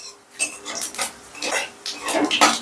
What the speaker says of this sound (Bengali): এবারে গ্যাসের আঁচটা মিডিয়ামে রেখে ফোড়নটাকে আমি একটু নাড়াচাড়া করে নিচ্ছি।